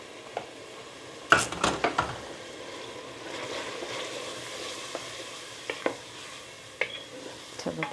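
Cumin powder and turmeric frying on a high gas flame for pav bhaji, a low steady sizzle beneath sharp clanks and scrapes of a spoon against the pan, no voices.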